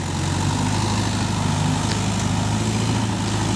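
Mahindra Yuvo Tech+ 585 DI tractor engine running loud and close with a steady low diesel rumble while its wheels spin, constant throughout and with no voices.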